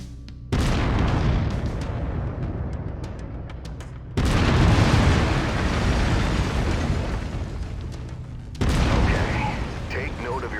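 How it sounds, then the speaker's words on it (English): Heavy autocannon fire from a mech in MechWarrior 5, three loud booming bursts at roughly four-second intervals, each followed by a sustained rumbling roar. "I've mapped the autocannon to Weapon Group 1. You're free to fire whenever you're ready."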